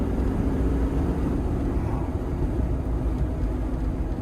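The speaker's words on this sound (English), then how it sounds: "We're gonna give a little throttle here just to feel it" A Toyota Land Cruiser turbo diesel engine pulling steadily under throttle, a dense low drone heard from inside, even and constant with no distinct gear changes.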